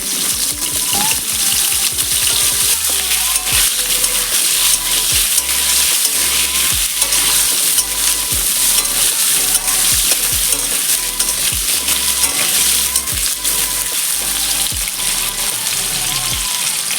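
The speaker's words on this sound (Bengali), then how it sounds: "দুটো মিডিয়াম সাইজের আলু এই বড় বড় করে কেটে নিয়েছি। এবার এটা ভেজে নেব।" Large chunks of potato fry in hot oil in a wok, producing a loud, unbroken hiss and crackle with occasional low knocks as the pieces shift.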